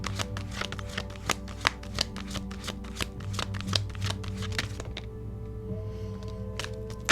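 Tarot cards are shuffled close to the mic in a quick, repeated flurry of crisp riffles and taps, fairly soft and continuous with brief pauses.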